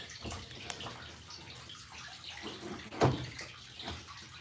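Water runs steadily with a soft, constant hiss and a few splashy surges, close and fairly quiet, with no voices.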